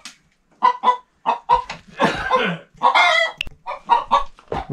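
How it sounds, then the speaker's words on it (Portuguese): A grey hen clucking in a series of close, loud, choppy bursts with short pauses between, inside an abandoned house. "olha a cor da galinha, bem cinza"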